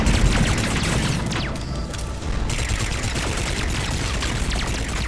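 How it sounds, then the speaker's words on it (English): Weapons firing in Mass Effect 3's Omega DLC, dense rapid bursts of gunshots and booms that keep up almost without pause, loud and close, with a brief dip in the middle. "start shooting at this"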